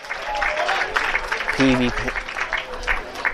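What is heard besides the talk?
baseball fans applauding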